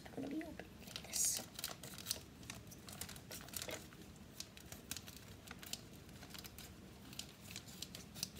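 A plastic bag of parts for a KidzLabs Combination Lock toy being opened with scissors, with crinkling and tearing plastic in scattered bursts close up, and a voice talking intermittently.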